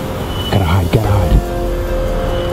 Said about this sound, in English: Oh, she's getting in her car.